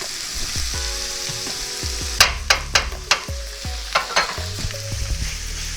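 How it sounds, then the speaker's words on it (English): Ground turkey drops into a hot pan and starts browning, a steady close sizzle broken by several sharp clacks and scrapes of a utensil breaking up the meat, with low background hum and no talking. "plop unceremoniously into the pan and start the browning and cooking of the turkey"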